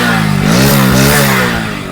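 A 2025 Hero Splendour motorcycle engine at around 723 km after its first service, revved gently a couple of times from idle with a smooth, close, loud hum that rises and settles.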